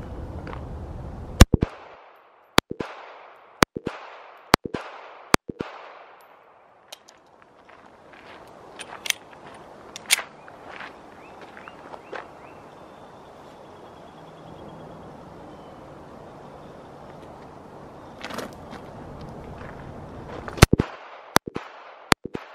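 Glock 42 pistol fired at an outdoor range from the 10-yard line: a fast string of sharp, loud shots in two bursts at the start and end, separated by a quieter stretch of ambient noise.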